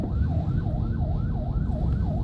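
An ambulance siren wails in a repeated rising-falling yelp in town traffic, steady and moderately loud, over a dense low rumble of vehicles and engines.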